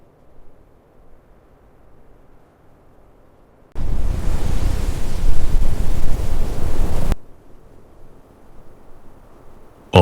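A roaring wind storm sound effect in a story about a destructive wind, a loud, broad rushing blast that cuts in abruptly, holds steady for about three seconds, then drops back to a low murmur.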